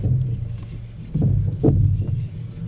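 Front-end car noise while the steering wheel is turned left and right: a low rumbling drone with intermittent knocking and creaking bursts, fairly loud and close, with no talking.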